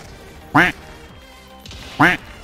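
Two short, loud quacks about a second and a half apart, ducks in the video game Hunt Showdown, standing out over a low, steady game background.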